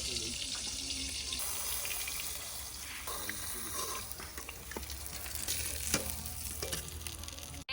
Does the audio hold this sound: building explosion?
no